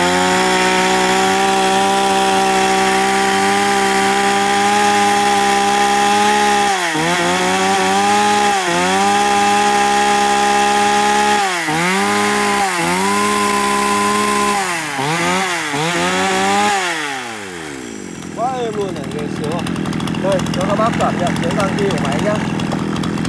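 A Komatsu Shindaiwa chainsaw runs loud and steady at close range, its engine dipping and surging in several quick throttle cycles before dropping to a rough idle near the end.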